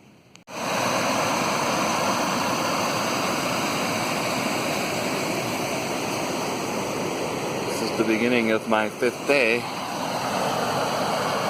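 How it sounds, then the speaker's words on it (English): A small waterfall near a campsite rushes in a loud, steady, close roar that continues throughout, with a person speaking briefly over it near the end. "That's a little waterfall near my campsite."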